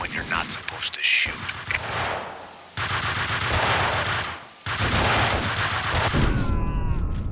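Bursts of rapid video-game gunfire in Max Payne 2 rattle loudly, cut by two abrupt silences, with a character's voice talking over part of it.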